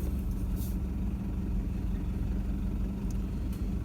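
A 4WD vehicle's engine, fitted with new injectors and about 300,000 km on it, idles with a steady low rumble close by before it drives over tree trunks.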